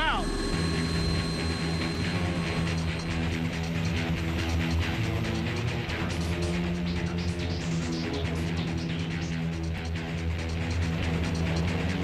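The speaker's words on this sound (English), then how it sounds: "Check out how the Osprey starts like a twin-rotor helicopter, executing a perfect vertical takeoff." A V-22 Osprey tiltrotor aircraft lifts off vertically like a twin-rotor helicopter, its heavy rotor and engine drone loud and continuous with low throbbing tones.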